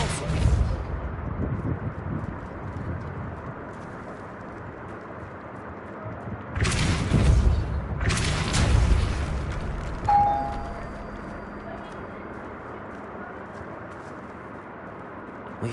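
Depulso spell cast in Hogwarts Legacy, two loud rushing bursts of force a second apart that break through a barricaded archway, followed by a short thud and low ambient hum.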